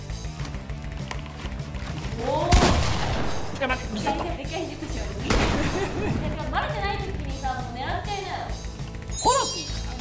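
Enemy gunfire in Fortnite, with sharp shots and bursts scattered across the clip, the loudest cracks coming in the middle, under lively chatter from players.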